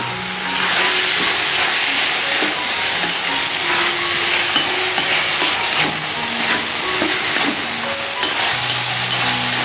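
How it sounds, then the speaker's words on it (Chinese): Chopped side vegetables for fish-fragrant shredded pork are stir-fried in a wok. A loud, continuous sizzle runs throughout, with frequent scraping and clattering as they are tossed. "把切好的配菜放进去，在锅里给它翻炒翻炒"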